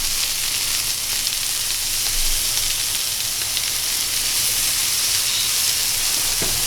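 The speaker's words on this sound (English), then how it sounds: "I'm gonna put the walleye on here first. That's a beautiful sound, never get tired of it." Walleye fillets sizzling loudly on a hot grill, being blackened: a steady, close, unbroken hiss that continues evenly throughout without any voices.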